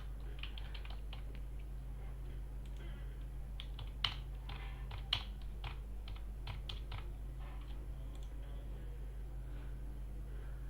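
Computer keyboard typing code, a faint, close run of quick irregular key clicks with a couple of sharper taps, over a steady low electrical hum.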